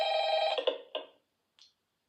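A telephone rings in a FNAF fan game set in a McDonald's restaurant: one sustained electronic ring that breaks into a couple of stuttering pulses, then a short faint chirp after a pause.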